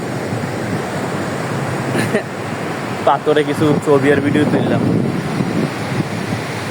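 Surf rolling in steadily at high tide on Irani Beach, Cox's Bazar, with gusty wind buffeting the microphone throughout and someone talking over the wash of the waves for part of the stretch.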